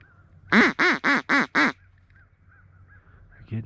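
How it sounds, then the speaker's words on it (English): Five loud, evenly spaced duck quacks burst out in quick succession on a family farm pond, close by, then soft ambient quiet with a faint final call. "Some ducks right here."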